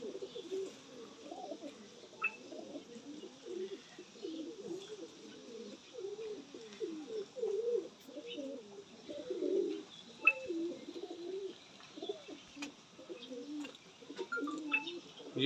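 A pair of Lakha pigeons coo softly and repeatedly at close range, low rolling coos in a steady rhythm, with faint chirps from other birds now and then.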